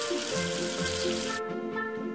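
Running water in a kids' cartoon game rinsing soap off a number, a bright splashing hiss for over a second that then breaks off, leaving soft tones of background music.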